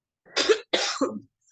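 Two sharp coughs in close succession, the second trailing into a rougher throat-clearing rasp, loud and close with no talk around them.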